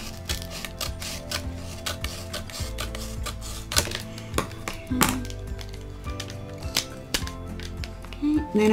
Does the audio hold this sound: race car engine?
no